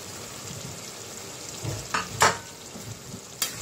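Bain fish fries in a yogurt masala in a pan, a low, steady sizzle with a few sharp scrapes and clacks of stirring, and no voices.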